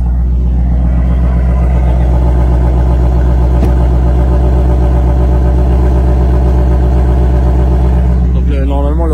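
A Shelby car engine idles loudly and close, a deep steady rumble with a throbbing pulse that holds throughout, with a brief higher rev change near the end.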